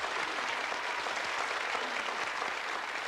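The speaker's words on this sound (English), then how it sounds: "Give him a round of applause." Studio audience on a 1992 British TV game show applauds a contestant, a brief, steady burst of clapping heard alone at moderate distance.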